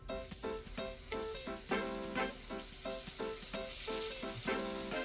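Chicken frying in hot oil for a chicken sandwich, a dense steady sizzle and crackle with rhythmic bursts as the pan is shaken, loud and close, no talking.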